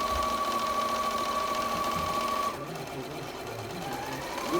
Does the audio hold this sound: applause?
no